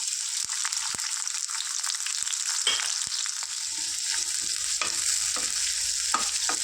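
Onions and green chillies fry in hot oil with a steady close sizzle, broken by scattered scraping taps of a spatula stirring the pan.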